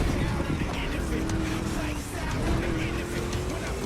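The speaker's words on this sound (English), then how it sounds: "V8, like a chunky, down-tuned guitar riff." A Ford Mustang V8 in The Crew Motorfest racing game revs in a steady, loud drone, its deep engine note rising slowly in pitch through the whole stretch as continuous race audio.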